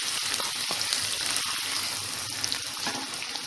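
Onion sautéing in a pan with bay leaf, giving a steady, fairly faint hiss of frying that runs without a break, with a few soft ticks of spattering and no voices.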